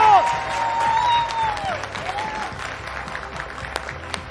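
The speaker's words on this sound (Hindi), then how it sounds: "एक बार फिर तालियां हो जाए।" A studio audience applauds in a crowded run of clapping that fades over a few seconds, while voices and a brief tonal chime sit on top.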